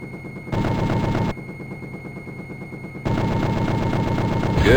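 A helicopter chain gun in the Jane's Longbow flight simulator fires in two sustained bursts of rapid, loud, rattling shots over a steady engine drone, with no speech.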